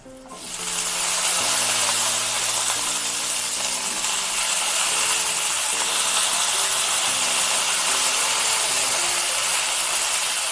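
Brinjal pieces and green chillies fry in a pan with a loud, steady sizzling hiss that holds constant throughout, while a low tonal hum runs underneath.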